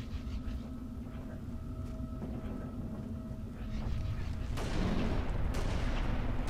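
Gunfire in Halo Reach comes as bursts of sharp reports over a steady hum of game ambience, and the shooting grows denser and louder toward the end.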